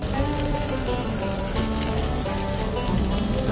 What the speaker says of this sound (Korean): 연탄불에 구워서 또 이렇게 짜작짜작 하는 이 맛이 아주 진짜 맛깔납니다.